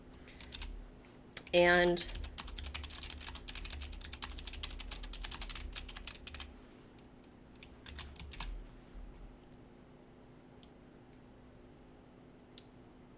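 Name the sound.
typing on computer keyboard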